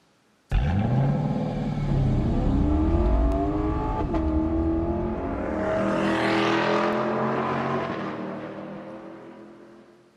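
A Lexus LC500 engine catches sharply and revs hard, its rising and falling harmonics holding loud and close for several seconds before a bright swelling burst, then easing down as the rumble fades away at the end.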